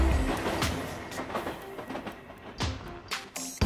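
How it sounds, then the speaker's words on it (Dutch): An Amsterdam metro train running along its rails, a steady rolling rumble with rattles and a few sharp clacks and knocks toward the end, heard from inside the carriage. "We rijden een stukje mee met de metro."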